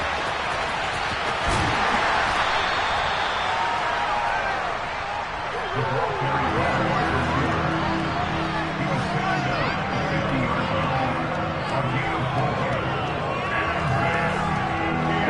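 Stadium crowd noise in a Madden football video game swells into a steady roar of cheering ahead of a big third down, broad and continuous under game sounds and low rumbling.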